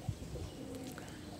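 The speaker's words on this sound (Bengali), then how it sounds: "তো এই কবুতরটা আর নামতে পারে নাই" A pigeon coos softly in the background, a few low murmuring calls under faint ambient noise at dusk.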